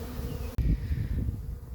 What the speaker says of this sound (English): the robber bees appear to be trying to get into the back of this hive as well